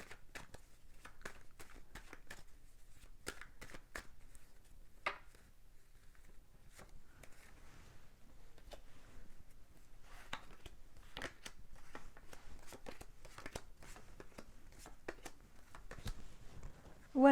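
Tarot cards being shuffled and drawn for a reading: soft, quiet card flicks and slaps repeat in irregular clusters, with faint handling rustles close by.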